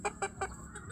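A large broodcock chicken gives three quick clucks close by, rhythmic and sharp, followed by softer fainter murmurs in a quiet setting.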